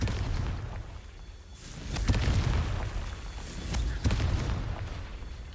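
Confringo blasting spell going off in the video game Hogwarts Legacy, a pair of booming bursts about two seconds apart over a steady low rumble of game ambience.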